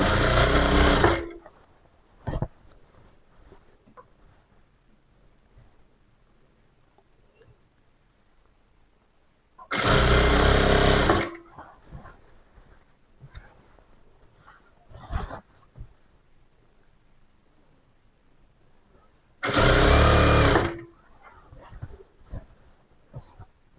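Sewing machine stitching folded hems on trousers, three loud bursts of rapid mechanical whirring a few seconds each, separated by long quiet gaps with faint handling sounds.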